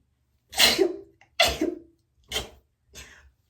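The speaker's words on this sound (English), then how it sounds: "I have to sneeze again." A young woman sneezes close up, four sharp bursts in a row, each one fading into a softer breathy tail, with the last two weaker than the first, in a quiet indoor room.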